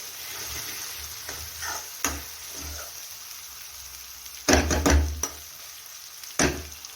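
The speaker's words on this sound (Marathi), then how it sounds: "तर ठेसा आपला छान असं मस्त फ्राय झालेला आहे" Thecha chili paste fries in a pan with a soft continuous sizzle, broken by a few knocks and stirring scrapes, the loudest burst just past the middle, and a voice speaking quietly.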